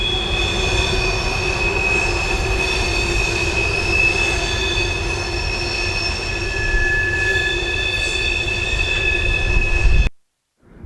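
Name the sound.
freight train passing on rails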